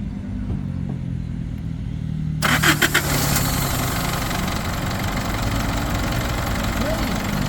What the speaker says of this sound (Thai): สตาร์ทให้ฟังเสียงเครื่องกันดูว่าเป็นยังไงบ้าง